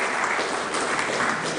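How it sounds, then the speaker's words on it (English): Audience at a panel discussion on India's strategic, economic and technological challenges gives a sustained round of applause for the panelists and moderator, dense steady clapping with no voices over it. "Ladies and gentlemen, a big round of applause to our distinguished panelists and the moderator."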